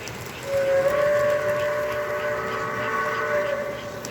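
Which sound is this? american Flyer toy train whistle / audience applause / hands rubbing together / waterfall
american Flyer toy train whistle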